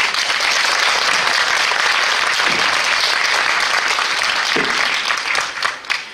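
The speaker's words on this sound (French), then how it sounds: "qu'on peut applaudir Julien." Audience applause at a festival opening ceremony, a steady, dense wash of clapping filling the room for several seconds before thinning out near the end.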